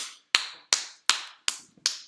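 Five sharp, separate hand claps, evenly spaced roughly every third of a second to half a second, close to the microphone with a short ring after each and near silence between.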